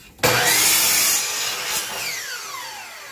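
A power wood cutter saws straight through wood material, starting abruptly with a loud, close whine that holds steady and then eases slightly as the blade works through the piece, with no talking.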